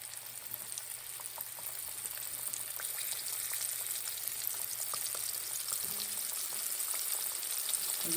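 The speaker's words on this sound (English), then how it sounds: "You can hear that sizzle," Flour-coated chicken fingers sizzle in very hot grease in a skillet, a steady close hiss dotted with fine crackling pops that holds evenly throughout with no talking.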